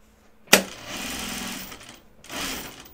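A home sewing machine stitching quilt fabric in bursts: a sharp start, then a steady mechanical whir of rapid stitches, a brief pause, and another run, close and fairly loud.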